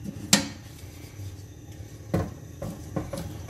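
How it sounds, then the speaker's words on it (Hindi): A spoon stirs carrot kheer (gajrela) ingredients in a metal pot, giving a few scattered clinks and scrapes against the pot over quiet kitchen background. "इसको अब हम मिक्स करेंगे।"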